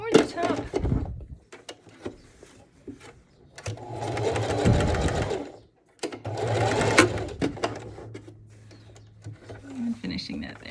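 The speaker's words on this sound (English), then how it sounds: "Sewing right over the pleat there, heading toward the top." A sewing machine stitches a pleated fabric face mask in two long, loud runs of rapid, even needle chatter, with a short stop between them and talk before and after.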